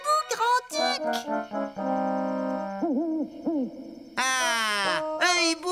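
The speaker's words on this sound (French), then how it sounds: "Ah, un hibou grand-duc! Je le savais." Cartoon eagle owl hooting in an animated show, a series of loud, close, tonal hoots with bright musical swoops and chimes around them, no talking over the calls.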